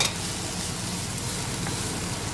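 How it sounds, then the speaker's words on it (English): Chopped onions roast in a pan with a steady, even sizzle that holds at the same level throughout, close by and with no talking. "I'm just going to roast these chopped up onions"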